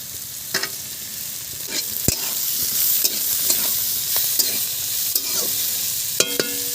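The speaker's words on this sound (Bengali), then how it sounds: "বিনস হাফ ভাজা হয়ে গেছে, আর 5 মিনিট ভাজলে হয়ে যাবে। তার মধ্যে আমি এখন দিয়ে দিচ্ছি ক্যাপসিকাম।" Beans and capsicum frying in a pan, continuous sizzle broken by repeated clinks and scrapes of a spatula stirring, close and fairly loud, with a cluster of sharp metallic taps near the end.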